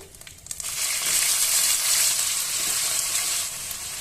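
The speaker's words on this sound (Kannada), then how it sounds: "ಈರುಳ್ಳಿಯನ್ನ ಚೆನ್ನಾಗಿ ಫ್ರೈ ಮಾಡ್ಕೊಳ್ಳಿ" Three medium-sized onions, finely chopped, hit hot oil in a pan for a crab pepper masala and break into a loud, steady hissing sizzle that holds for several seconds after a few initial clatters.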